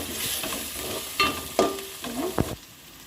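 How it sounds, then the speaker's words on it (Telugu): Curry leaves fry in hot oil for a chicken curry, a steady close sizzle broken by a few sharp spoon scrapes and stirring clatters near the end. "ఇప్పుడు వచ్చేసి కరివేపాకు యాడ్ చేస్తున్నాను. మంచిగా ఫ్రై చేసుకోవాలి."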